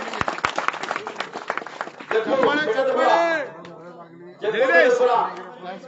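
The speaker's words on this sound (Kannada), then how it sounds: "ಅವರು ಸಹ ಚಪ್ಪಾಳೆಗಳ ಮುಖಾಂತರ ಸ್ವಾಗತವನ್ನು ಬಯಸಿ" A burst of scattered hand clapping at a state farmers' association convention opens, fading after about two seconds as people begin speaking over it.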